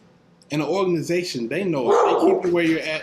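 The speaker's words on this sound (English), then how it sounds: "my dog she loves to bark while I'm trying to record videos" A dog barks repeatedly in short yips and barks indoors, close and loud, overlapping a person talking.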